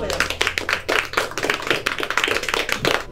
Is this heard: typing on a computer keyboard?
no